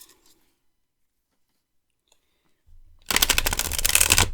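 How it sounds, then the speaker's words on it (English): After near silence, a deck of tarot cards is shuffled up close, breaking into a loud, rapid papery riffle that fills the last second and a half. "I'm actually going to do a shuffle."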